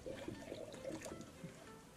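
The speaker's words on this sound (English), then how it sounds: "I'm just filling up the radiator." A faint trickle of coolant pours into the radiator of a cold 2006 Subaru Forester 2.5X, a soft continuous liquid patter with small gurgles, close by and quiet.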